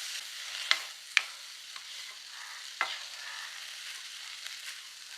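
Sprouted chickpea thoran being stirred in a pan: a soft, steady scraping hiss broken by a few sharp clicks of the spoon against the pan, close and fairly quiet, with no voices.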